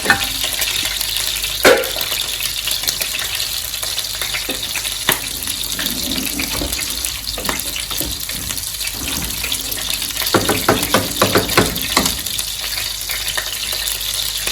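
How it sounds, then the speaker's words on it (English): Chicken gizzard frying in hot oil in a home kitchen gives a steady, dense sizzle with scattered pops and crackles throughout. "So while the chicken is frying"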